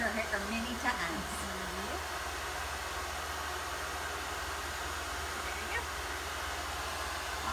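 A hair dryer blows steadily with a constant whooshing roar during a round-brush blow-dry, with brief voices over it near the start.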